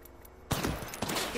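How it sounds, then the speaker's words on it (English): Gunfire in the Apex Legends battle royale game, a sudden loud burst of rapid shots that starts abruptly after a quiet moment and keeps rattling briefly. "Shots fired at me."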